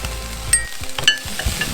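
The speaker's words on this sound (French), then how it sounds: "après avoir fait revenir nos épices, graines à roussir, oignons, nous allons mélanger nos ingrédients" Spices, seeds and onions sizzle in a frying pan for a vegan pumpkin purée, with a spoon scraping and stirring through the hiss and a few light clinks of utensil on metal, close and steady.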